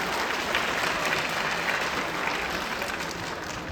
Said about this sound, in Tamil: நம்ம அக்ஷராக்கு ஒரு கைத்தட்டல் கொடுத்துடலாமா?